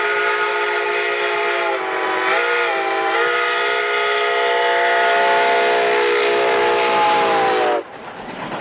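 The historic White Pass steam train, running out of Skagway, Alaska, sounds a long, loud, sustained whistle lasting nearly eight seconds, slightly bending in pitch, then cuts off to the rumble of the train.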